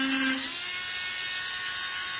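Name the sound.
electric engraver pen buzzing, dentist-drill sound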